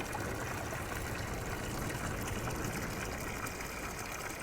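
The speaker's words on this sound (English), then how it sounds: "water coming straight out of the earth and draining into here and moving across this platform" Spring water drains straight from the earth across a stone platform toward the ocean in Ericeira, Portugal, a steady broadband rush and trickle running continuously at close range.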